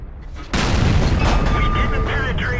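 A heavy tank cannon blast in World of Tanks, from a T25 AT tank destroyer, booms suddenly after a low rumble, followed by a sustained roaring, crackling echo of the shot.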